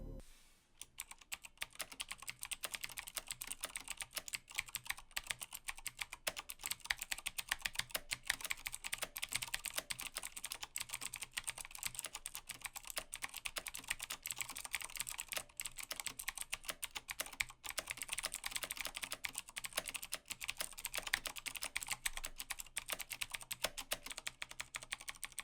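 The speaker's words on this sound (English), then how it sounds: "here is a quick sound test of the Cherry MX Blues on the Thermaltake Level 20" Cherry MX Blue switches clattering on a Thermaltake Level 20 keyboard with ABS keycaps, rapid continuous clicky keystrokes in a fast uneven rhythm, close and alone for the whole stretch.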